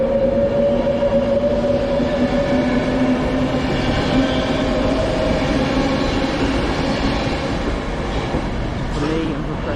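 A train rolls through Preston station with a loud, steady rumble and a sustained tonal hum, and a faint squeal near the end.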